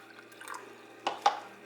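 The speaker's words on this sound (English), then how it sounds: "I'm gonna put some water in here." Water pours into a Parents Choice 360 plastic sippy cup in a short, quiet trickle, followed by two brief, brighter splashes close by.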